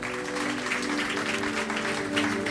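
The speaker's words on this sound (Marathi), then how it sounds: "मला एकमेकांसाठी जोरदार टाळ्या वाजवा" Church congregation clapping for one another at a Marathi-language sermon, a dense, steady wash of applause lasting throughout with a slight swell near the end and no speech over it.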